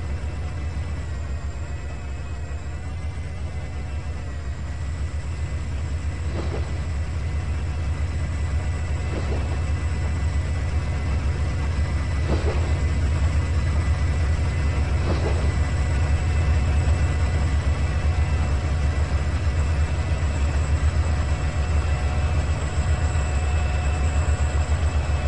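A CN mixed freight train rolls along the Tidewater route in Trainz 2019, a steady low rumble under a faint hiss with a few soft rail clicks spaced several seconds apart.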